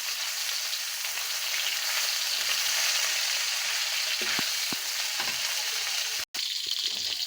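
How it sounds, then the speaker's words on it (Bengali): Fish fry in hot oil in a pan with a steady, dense sizzle. Scattered small pops crackle through it, and there is a brief break near the end. "মাছগুলো ভালো করে ভাজা হয়ে গেছে, এখন নামিয়ে ফেলবো"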